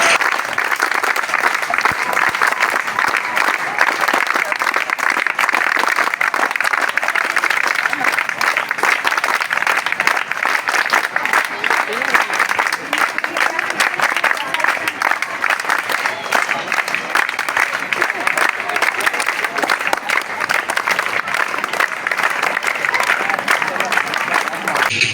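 A crowd at a school Defense Day ceremony in Jhamra applauds loudly and continuously, a dense, unbroken wash of clapping that holds at full strength for about twenty-five seconds.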